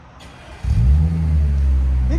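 A 2013–2016 Audi S5 with a supercharged 3.0L V6 and AWE cat-back exhaust fires up into a deep, loud rev. Its low, throaty rumble rises and holds close by, with no talking over it.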